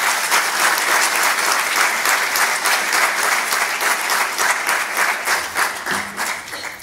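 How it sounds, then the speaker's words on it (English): An audience gives the parents sustained applause at a medical university graduation convocation, a dense, even roar of many hands clapping that carries on for several seconds and thins slightly near the end. "So, a good round of applause for all the parents."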